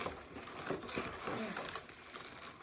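Plastic and paper crinkle and crush steadily as a taped package is pulled open, a close, busy rustle lasting a few seconds with no talk over it.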